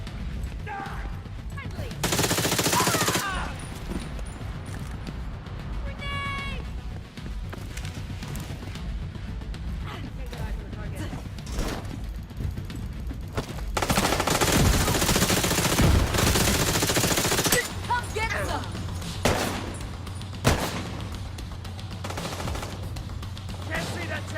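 Gunfire in The Division 2 during a Dark Zone fight, with several loud bursts of automatic fire and sharp single shots separated by quieter stretches of game sound and shouted callouts.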